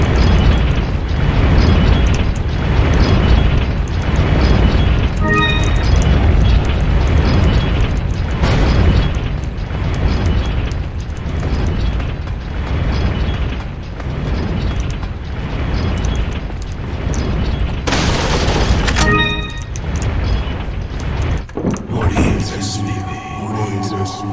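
Grenade blasts in the Resident Evil 4 sewer area, loud booming bursts over continuous game noise, with a sharp burst near the end followed by tonal chimes.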